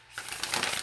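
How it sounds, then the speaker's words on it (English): Tarot cards are shuffled close by, a quick burst of soft papery riffling and flapping that starts abruptly after a brief quiet moment. "I've been shuffling quite a bit off camera."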